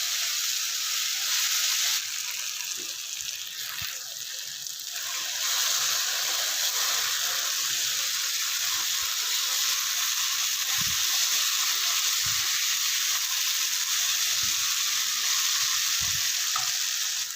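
Masala okra (bhindi) sizzles and fries steadily in a pan, dhaba style, a continuous close hiss with occasional soft scraping stirs and no talk.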